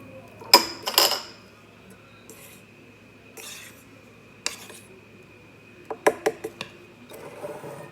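Flour and baking powder are mixed in a bowl for a German carrot apple cake, giving scattered clinks and taps of a utensil against the bowl, with a few sharp knocks and quieter scraping between them.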